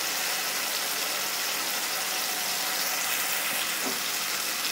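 Chicken and cauliflower frying together in a pan, a loud, dense and continuous sizzle that holds steady and close throughout, with no voices over it.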